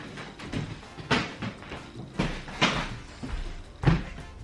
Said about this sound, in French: Seul gros bémol de cet appartement, le parquet grince.